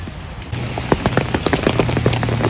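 Light rain patters steadily, with scattered distinct drops tapping a surface close by over a constant soft hiss.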